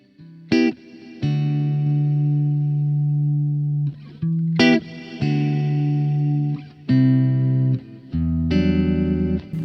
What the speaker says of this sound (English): an effect type reverb, as in not a natural reverb, that sounds awesome